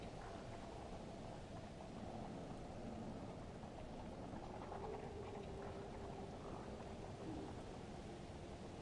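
Steady, even hiss of video game rain in Far Cry 4 falling without pause, a dense wash of noise with faint low rumbles underneath and no voices.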